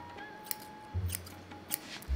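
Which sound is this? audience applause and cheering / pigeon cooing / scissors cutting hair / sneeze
scissors cutting hair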